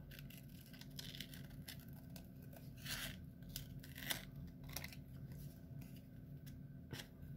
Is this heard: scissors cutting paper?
yes